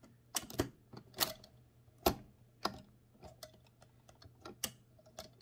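Sharp, irregular mechanical clacks from a 1925 AEG Mignon 4 index typewriter being typed on, a dozen or so strikes in uneven rhythm, close and fairly quiet, with no talk.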